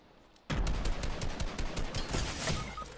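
Rapid video-game gunfire erupts abruptly after a short quiet lead-in and continues as a dense, loud volley of cracks and bursts, including sniper fire, with no talking.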